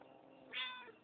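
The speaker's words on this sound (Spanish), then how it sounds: "Mira, ya dijo miau." A single short cat meow, soft and close, rising briefly then trailing off.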